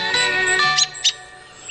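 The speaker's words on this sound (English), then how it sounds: "The underappreciated but unmistakably elegant Turdus migratorius." American robin calling in a couple of short, high chirps over a steady background hum, fairly close and moderately loud.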